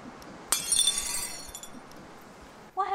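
Glass breaks indoors with one sharp crash and a scatter of tinkling shards that ring out over about a second, then fades into quiet room tone before a brief sound near the end.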